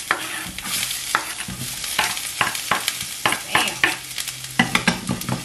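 Chopped vegetables sauté in a hot pan, a steady close sizzle broken by repeated scraping and stirring strokes, sharp bursts recurring every second or so with no talking.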